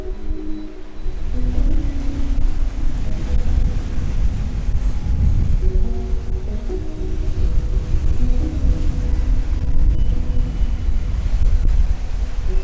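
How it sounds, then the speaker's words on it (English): Strong wind roars steadily across a lake shore beside a lagoon at a provincial park, buffeting the microphone with loud, continuous low rumble while waves wash in beneath it. "It's too windy."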